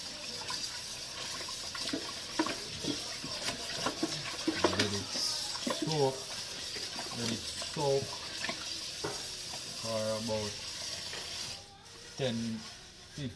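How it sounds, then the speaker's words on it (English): Tap water runs steadily into a sink while pork is washed for Jamaican jerk, with splashing and handling noises, and people talk over it. "we make sure we wash the pork properly"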